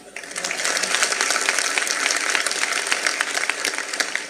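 A kirtan audience bursts into sustained applause, many hands clapping densely and fairly loudly throughout, with no talk over it.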